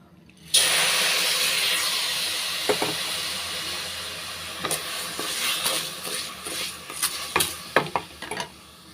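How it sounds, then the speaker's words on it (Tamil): Washed green gram being dry roasted in a pan, with a loud hiss and steam starting abruptly, then fading while a spoon scrapes and stirs the grains in irregular clacks. "இப்போ வறுத்து எடுத்துக்கலாம்."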